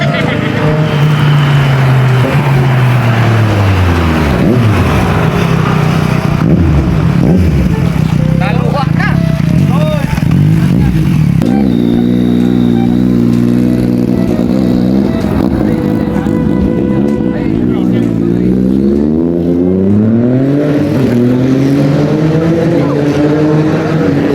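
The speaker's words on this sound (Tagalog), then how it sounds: "Panoorin nyo na lang muna yung masasarap na tunog ng mga motor." Big-bike motorcycle engines rev and roar past at close range, pitch climbing and dropping in repeated sweeps, with steady road noise throughout.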